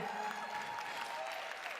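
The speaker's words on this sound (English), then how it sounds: "One applause for William for guarding us here." Audience applause for a man named William at a talk, a steady broadband wash of clapping filling the room throughout without letting up.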